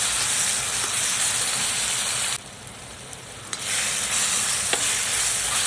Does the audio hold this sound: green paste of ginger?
yes